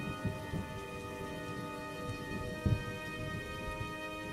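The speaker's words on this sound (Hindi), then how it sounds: "तभी जोर से बिजली कड़कती है" Cartoon-style storm effect with steady heavy rain and a continuous rumbling bed, a sharper thunder crack bursting out near the middle; no voices.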